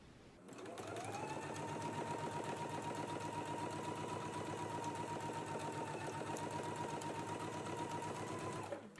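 A sewing machine stitches a facing onto a collar in one steady, continuous run of rapid mechanical whirring and clatter, close and even, starting and stopping cleanly with no talk over it.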